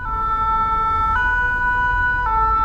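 A fire engine siren passes in the street, a loud steady two-tone wail alternating pitch every second or so over low traffic rumble, no talking.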